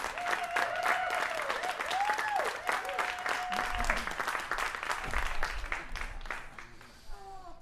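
A congregation at a Sunday celebration service applauds Michael Soudier with sustained, dense clapping and a few voices, while a sung or held tone rises above early on and the applause fades toward the end.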